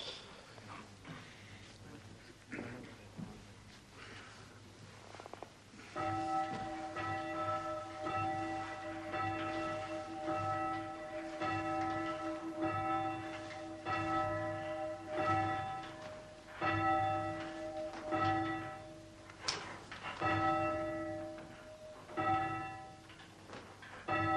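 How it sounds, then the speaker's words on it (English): A church bell swung up by a bell ringer in a tower, clanging repeatedly in a steady rhythm with ringing overtones that sustain and swell, loud and fairly close, with no talk over it. "It's a poor ringer that can't raise his own bell."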